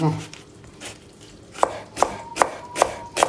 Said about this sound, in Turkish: hemen soğanı doğrayayım arkadaşlar